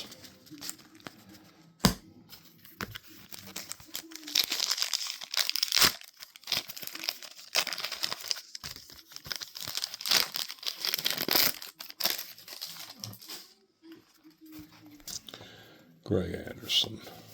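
Foil wrappers on 1989-90 NBA Hoops basketball card packs crinkle and tear up close in bursts, with quiet talk between the rips.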